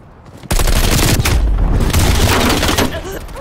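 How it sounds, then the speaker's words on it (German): A grenade blast in Call of Duty Black Ops Cold War multiplayer: a sudden loud boom after a brief quiet moment, followed by a rumbling, crackling roar of debris and gunfire that slowly tails off. "Werfe Granate."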